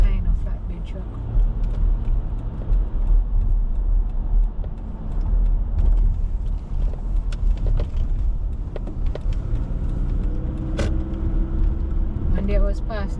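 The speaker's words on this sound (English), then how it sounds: "There goes a Hino flatbed truck." A Hino flatbed truck drives past on a New York City street, its engine rumble rising out of steady road traffic noise, with brief sharper clatters and a tonal hum near the end.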